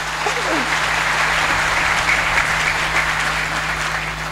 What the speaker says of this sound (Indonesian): tepuk tangan untuk Nahdlatul Ulama